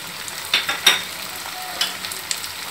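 Cauliflower and potato pieces fry in a pan, giving a light continuous sizzle with several sharp scraping stirs and clinks spread across the moment, heard close up with no voices.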